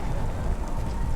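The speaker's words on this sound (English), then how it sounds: "It was raining in the city by the bay. A hard rain." Steady, dense rain pours continuously in a video game city, a heavy broadband hiss with low rumble underneath and no voices.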